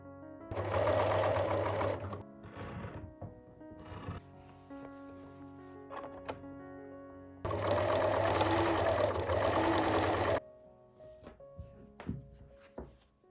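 A sewing machine runs two loud bursts of rapid stitching along a 1 cm trouser pocket seam, with quieter handling and fabric rustling in the pauses between them.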